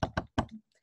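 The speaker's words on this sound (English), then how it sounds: "And there's a knock at the door." A knock at a door: three firm raps in quick succession, close and clear, followed by a softer trailing tap and a brief faint tail.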